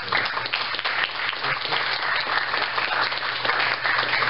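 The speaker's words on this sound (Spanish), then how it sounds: "les pido un aplauso" Audience applause at a Spanish-language business technology talk, a steady, dense wash of many hands clapping that holds at an even level throughout with no talking.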